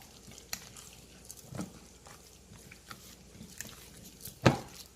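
A spoon stirs mozzarella into a lasagna mixture with soft, intermittent scraping and squelching strokes, close by and fairly quiet. A sharper clack of the spoon against the bowl comes near the end.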